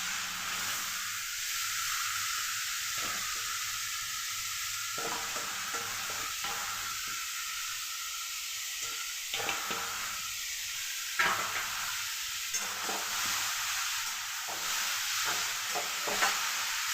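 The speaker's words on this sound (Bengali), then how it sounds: "আমি পটলটাকে আগে কিছুক্ষণ ভালো করে ভেজে নিলাম" Pointed gourd (potol) fries in a pan with cumin tempering, giving a continuous close sizzle broken by repeated scraping and clattering from stirring, and no one speaks.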